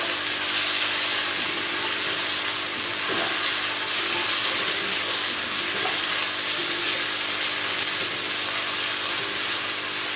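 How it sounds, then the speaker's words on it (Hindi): Diced potatoes, tomato and finely chopped green chilies fry in a pan, giving a steady, dense sizzling hiss that stays even and loud throughout. "अब मैं इनको तकरीबन 3 से 4 मिनट तक भून लूँगी।"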